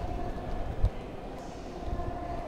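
Inside a limited express train bound for Sendai in Japan, a steady low rumble of rail travel fills the cabin, with a faint thump near the start and no talking.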